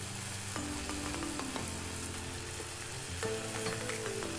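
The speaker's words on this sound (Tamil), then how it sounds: "இதெல்லாம் சேர்த்து நல்லா வதக்கி விட்டுக்கலாம்." Ingredients for an ash gourd (ven poosanikai) gravy are sautéed in a pan and hiss in a steady, close sizzle. Occasional stirring clinks and scrapes sound over the frying.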